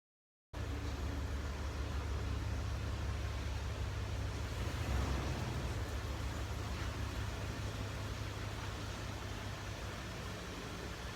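A homemade farm rod car drives around a circular driveway, its engine a steady low rumble with a slight swell midway, fairly distant and unbroken, with no one speaking.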